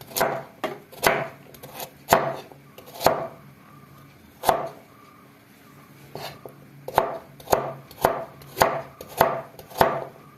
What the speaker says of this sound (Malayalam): അതുപോലെ തന്നെ നമുക്ക് ക്യാരറ്റ് ചെറിയ കഷ്ണങ്ങളായി അരിയാം.